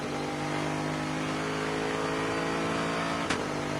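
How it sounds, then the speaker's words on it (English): Bentley GT race car at full throttle through Ascari at Monza, recorded on-board: a loud, steady engine drone with strong harmonics, holding high revs throughout with a brief sharp transient near the end. "The Bentley, the Team Lazarus car making its way down to Parabolica."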